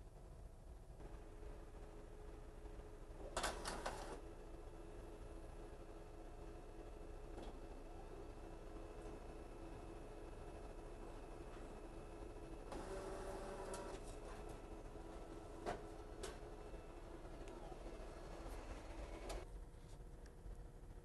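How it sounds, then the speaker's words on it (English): Printer feeding a transfer paper test sheet gives a faint, steady mechanical hum, with two louder bursts of whirring as rollers pull the page through, plus a few small clicks. "Let's go ahead and send this page through the printer to see what happens."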